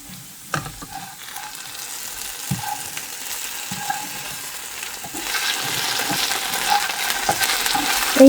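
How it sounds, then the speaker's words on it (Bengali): Potatoes, lightly salted, sizzle and spit in a frying pan with a steady hiss that swells louder in the second half, broken by a few faint clinks of stirring. "আলু ভাজিটা ঠিক এইভাবে করে নিতে হবে"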